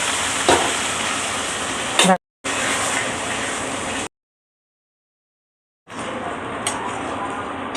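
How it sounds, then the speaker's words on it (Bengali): Dal poured into hot fried tempering in a pan, giving a loud steady sizzle with stirring scrapes, broken by two abrupt silent gaps before the sizzle resumes; a voice speaks over it. "এবার আমি এটা এর মধ্যে ডালটাকে ঢেলে দেবো।"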